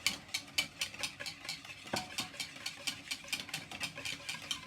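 A whisk beats butter into a soda bread mixture in a bowl, giving quick, regular rhythmic taps and scrapes, close and fairly quiet, with no talking.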